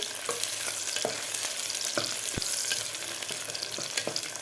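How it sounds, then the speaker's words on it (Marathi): Chopped onion frying in oil for a Khandeshi black-masala khichdi sizzles steadily, with repeated close clicks and scrapes of a spoon stirring the pan. "कांदा थोडासा फ्राय झालेला आहे"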